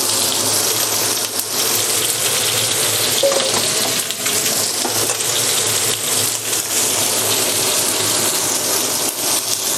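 Steady, loud hissing and sizzling of cornstarch-coated shrimp frying in oil in a wok, continuous throughout with no talking.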